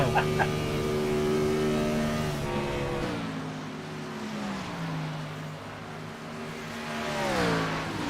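Race car engines in an iRacing NASCAR event at Atlanta Motor Speedway, a steady droning roar with pitch shifting down and up as cars run through the corner, a commentator talking over the sound.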